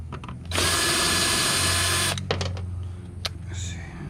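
A power drill whirs in one sustained high-pitched burst of about a second and a half, backing screws out of the plastic globe on a light fixture being scrapped, followed by a few clicks and light clatter of small metal parts.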